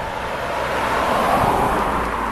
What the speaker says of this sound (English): And the traffic here is pretty fast